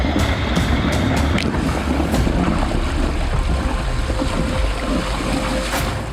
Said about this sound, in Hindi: ये आवाज नदी में से आ रही थी। पानी में भंवर बनने की थी शायद